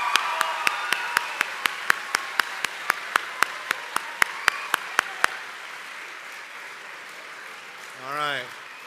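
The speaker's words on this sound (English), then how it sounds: "Now we can clap." At an awards event, a small group claps in a steady run of sharp, evenly spaced hand claps for about five seconds, then quiet room tone follows with a short vocal sound near the end.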